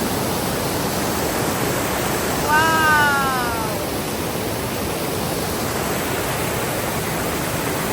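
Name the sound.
stream and waterfall water flowing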